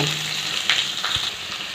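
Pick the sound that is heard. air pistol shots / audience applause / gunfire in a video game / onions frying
onions frying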